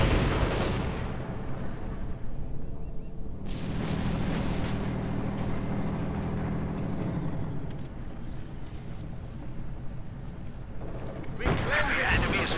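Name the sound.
gunfire at a T-34 tank in the video game Company of Heroes 2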